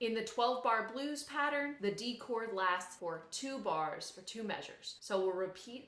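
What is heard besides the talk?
No everyday noise stands out behind the speech.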